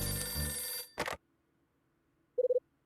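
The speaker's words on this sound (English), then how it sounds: "Phone's ringing." In the Last Window video game, a telephone rings in a short burst of four quick electronic trills, heard after music and a brief sound cut off, then near silence.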